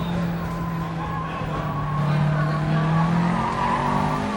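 Race car lapping a track at about 72 mph, its engine a steady loud drone with a sustained low tone and some tire noise throughout.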